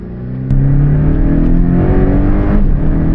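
A Porsche Cayman 718 S engine pulls hard on the Portimao race track, a loud steady drone that climbs in pitch as the car accelerates, with no voices.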